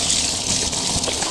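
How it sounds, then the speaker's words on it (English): Warm water gushing steadily from a tap or shower into a sink, used to rinse a Lexan RC car body with dish soap; a continuous close hiss of running water with no talking. "Let's get some warm water going."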